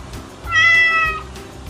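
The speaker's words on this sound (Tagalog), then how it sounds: "ang pusa or cat ay may tunog na" A single drawn-out cat meow, clear and close, rising and fading over about half a second.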